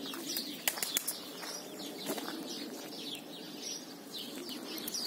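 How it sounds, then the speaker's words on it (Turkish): Released pigeons flap their wings in a few sharp bursts against a steady background of bird chirps and coos, moderately distant and fairly faint. "Kuşları senin için saldık."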